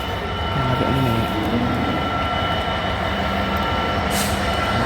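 A train rolling through Doncaster station, a steady loud rumble of wheels and engine with faint tonal hums, continuous and close for the whole stretch with no talk.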